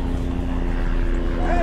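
Helicopter flying overhead above a busy market and railway line in Bangladesh, a steady droning rotor hum that fills the background throughout while someone talks.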